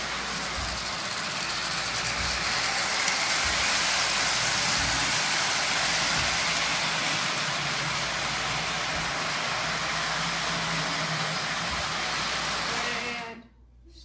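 A model train running laps around a home layout, giving a steady continuous rolling hum with faint rhythmic clicks of the wheels, close and moderate in level, ending abruptly as it stops.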